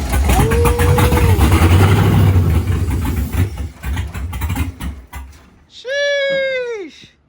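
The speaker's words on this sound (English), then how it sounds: "about to fire up the C10, the LS3 C10. See if it fires up." Chevrolet C10 truck with an LS3 engine cranking and firing up into a loud, rough rumble that settles and fluctuates, followed by a short, sharp rev that rises and falls; voices are faintly audible around it.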